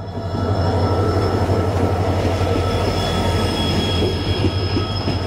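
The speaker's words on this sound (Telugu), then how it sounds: "సో మన ట్రైన్ అయితే వచ్చేస్తుందండి." A passenger train on the Mysore to Talaguppa route pulls in close by with a loud, continuous rumble of wagons and wheels. Sustained high metallic squeals ring over the heavy rolling noise.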